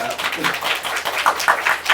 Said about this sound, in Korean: 저기 갑자기 느닷없이 나와주신 윤고은 작가님께도 큰 박수 한번 부탁드립니다.